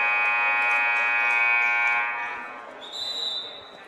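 A basketball scoreboard buzzer sounds at the end of a period in a high school boys' game between Ellenville and Mount Academy, a loud steady electronic tone holding for about two seconds before fading under gym noise and a brief higher beep.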